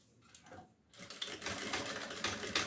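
A sewing machine stitches a seam on a handmade doll, starting softly and then running in a fast, steady whir of close, continuous stitching.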